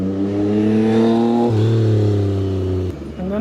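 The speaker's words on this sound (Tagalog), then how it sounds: "ganda ng motor sa likod oh" A motorcycle engine revs close by, a loud sustained drone that shifts pitch upward partway through, then drops off abruptly near the end.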